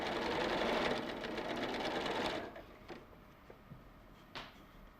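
A sewing machine stitches fabric with a steady, loud mechanical whir for about two seconds, then stops, leaving a few soft clicks and light handling noises close by.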